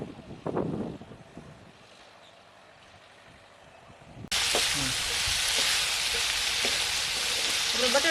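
Potatoes tempered with green chillies, curry leaves and cumin sizzle loudly in oil on a griddle, a sudden dense continuous frying hiss that starts midway after a quieter stretch with brief talk and clatter.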